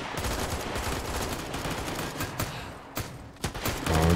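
Video game gunfire: dense bursts of rapid shots and sharp cracks crowd together in a steady barrage, with louder isolated reports toward the end.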